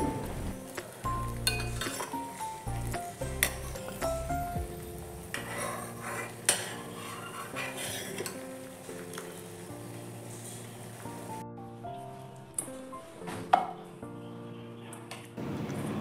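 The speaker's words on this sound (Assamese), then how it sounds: "এতিয়া মাজে মাজে লৰাই থাকিম চেনিখিনি যেতিয়ালৈকে গলি নাযায়।" Sugar is stirred in a pan over gas until it melts, with repeated metal scrapes and clinks of the spoon against the pan, moderately close, over a faint sizzle.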